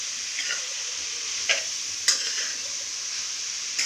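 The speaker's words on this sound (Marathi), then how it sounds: "हे व्यवस्थित परतून घेऊया." Vegetables sauté with salt in a pan, making a steady soft sizzle. A few distinct spatula scrapes and clinks break through at intervals, with no talking.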